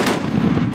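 A 50 caliber machine gun firing at a rented range, a loud, sustained booming burst of rapid heavy shots up close.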